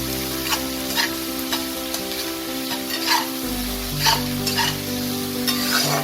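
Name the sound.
onion paste being stirred and fried in oil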